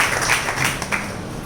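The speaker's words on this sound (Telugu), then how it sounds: "చప్పట్లు కొడదాం అందరూ" Audience applause at a Teachers' Day gathering, a brief, dense burst of steady clapping filling the room with no voices over it.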